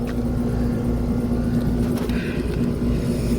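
A 2024 three-ton Trane XR14 central air conditioner with a Reliant scroll compressor and Gentech fan motor runs in cool mode, giving a steady close-up mechanical hum with a strong tonal drone and constant fan whoosh.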